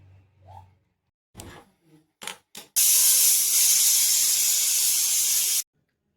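A pressure cooker boiling potatoes lets out one long, loud, steady hiss of escaping steam lasting about three seconds, after a few brief clattering knocks.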